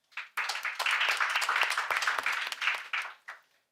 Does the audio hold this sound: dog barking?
no